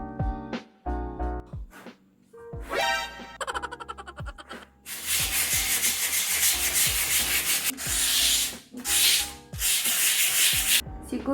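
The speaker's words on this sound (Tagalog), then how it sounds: "Siguro lihain kong konti, tapos masilyan ko ulit." Sandpaper rubbed across filler on an old wooden table: steady, close scratchy strokes in repeated back-and-forth rhythm, with a few soft knocks at the start.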